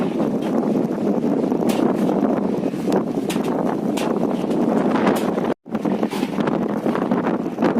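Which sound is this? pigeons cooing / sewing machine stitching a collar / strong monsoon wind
strong monsoon wind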